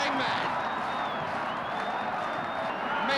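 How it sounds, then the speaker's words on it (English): A football stadium crowd at Leeds United versus West Brom roars wildly after a goal, a dense and sustained wall of cheering and shouting that stays loud and unbroken throughout. "Listen to the crowd going mad."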